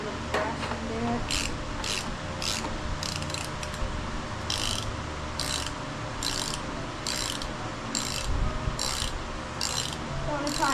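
A tool tightens a bolt on a go kart wheel during a restoration rebuild. Quick bursts of ratcheting clicks repeat over a steady mechanical background hum, with brief pauses between the runs of clicks.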